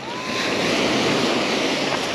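Sea waves wash onto a beach at Lazarevskoye, a steady close roar of surf with wind buffeting the microphone, no voices.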